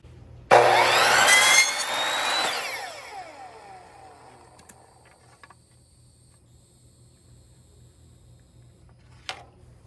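A power saw cuts wooden stair nosing strips in one loud burst, whining as it runs through the wood and then winding down to quiet. A few faint knocks follow.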